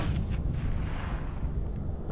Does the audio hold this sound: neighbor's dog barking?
no